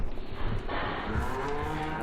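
Cattle moo in a barn in Farming Simulator 2015, with a low, drawn-out call over a steady background hum.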